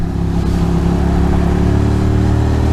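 A Monster motorcycle ridden at speed through wet New York City streets, its engine holding a loud, steady droning throb close up with a faint rushing wash of road and wind noise underneath.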